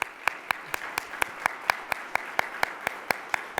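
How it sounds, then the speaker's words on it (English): Audience at a Columbus Metropolitan Club banker forum applauding sponsors: a room of steady clapping with one close, loud pair of hands beating a regular, even rhythm throughout. "Let's give them a round of applause."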